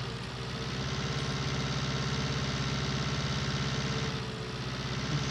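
A tractor engine in Farming Simulator 19 runs with a steady, rumbling drone while driving, holding a constant low throb with a brief dip near the end.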